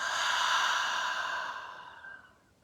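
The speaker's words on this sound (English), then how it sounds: "breathing in, inhale, and exhale" Deep, slow breaths drawn in and let out during a guided meditation, the long airy exhale close and steady before fading softly toward the end, with no talking.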